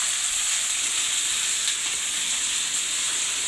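Cabbage fries in a pan on the stove, giving off a steady, even sizzling hiss close by with no voices.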